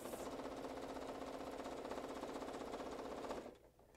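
Sewing machine stitching binding onto a reversible placemat, a fast steady close whirr of the needle running for several seconds, then stopping abruptly near the end, with no talk.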